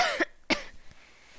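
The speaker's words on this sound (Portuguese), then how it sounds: "Eu tô tossindo." A person coughs up close, two sharp dry coughs in quick succession followed by a faint throat sound.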